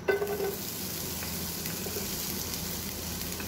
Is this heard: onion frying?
yes